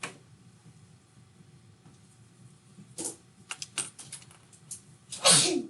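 A single sharp sneeze bursts out near the end of a quiet classroom stretch, preceded by scattered small clicks and rustles in the room.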